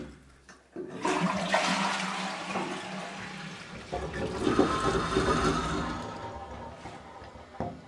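A bathroom toilet flushes after a drain check-valve installation: a loud, close rush of water that starts abruptly near one second, then churns and gurgles steadily until the end, with no talk.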